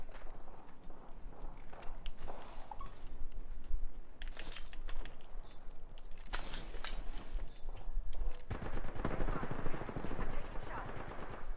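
Gunfire in the shooter video game Apex Legends: rapid bursts of shots and clattering impacts mixed with busy game effects and a shrill, high-pitched tone toward the end.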